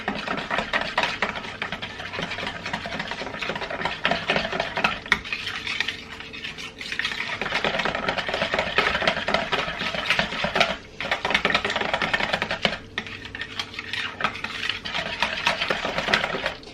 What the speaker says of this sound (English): I'm just going to whisk this together now with the whisk